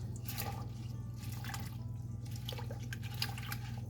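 Pot of dock leaf dye simmering quietly, giving faint, irregular drips and small bubbling pops over a low, steady hum.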